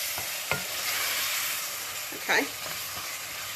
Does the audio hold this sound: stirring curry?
yes